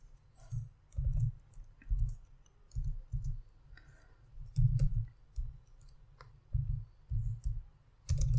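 Quiet computer mouse clicks come in uneven bursts, some single and some in quick pairs, with near-silent gaps between them. The sound is close and faint, with no voice.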